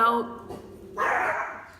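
Dogs bark in a couple of short, sharp bursts at moderate distance, one yip early and a louder bark near the end, with a voice briefly heard.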